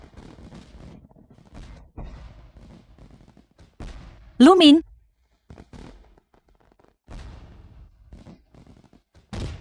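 Fireworks burst in one loud, brief crackling volley during a holiday celebration, with people talking before and after it.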